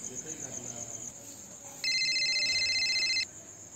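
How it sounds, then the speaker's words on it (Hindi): A phone rings outdoors by a house gate, a steady electronic ringtone that starts abruptly midway and cuts off about a second and a half later, loud over faint ambient outdoor noise. "तो मेरे को एक दोस्त का फोन आता है।"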